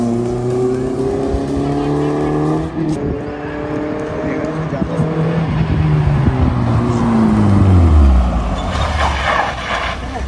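An off-road car drives along a road, its engine droning under voices, then slows hard with the engine note falling as it brakes near the end.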